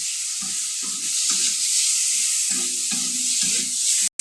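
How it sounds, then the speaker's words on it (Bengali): Fish, including prawns, fries in hot oil in a home kitchen, giving a steady broadband sizzle with intermittent stirring and scraping sounds, close up with no talking. "তেলটা গরম হয়ে গেছে দেখুন মাছটাকে হালকা করে ফ্রাই করে হবে"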